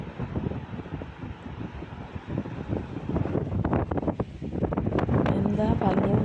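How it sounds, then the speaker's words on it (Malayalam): Steady wind buffets the microphone at a roadside stop on a motorbike trip through hill country toward Vagamon and Cheruthoni, a broadband rush that grows stronger toward the end and sits under murmured voices. "അതിൻ്റെ കൂടെ തന്നെ നല്ല കാറ്റും."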